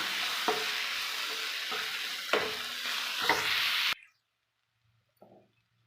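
Spinach and potato stir-fry being stirred in a hot pan, a close sizzle with scraping strokes of the spoon for about four seconds, then near silence with one faint scrape.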